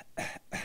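Two short, harsh coughs in quick succession, close and moderately loud with no other sound around them.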